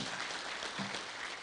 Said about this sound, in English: Why don't you give yourselves a handy clap for that?